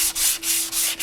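A soft sanding block rubs back and forth over a Honda motorcycle part in a restoration shop, four close, even strokes with a dry abrasive hiss and brief pauses at each turn.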